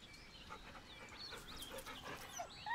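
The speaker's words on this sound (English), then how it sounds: "The dog whimpers nervously" A dog in the Baldur's Gate 3 video game whimpers nervously, with soft repeated whines and panting breaths, fairly quiet and close with no talk over it.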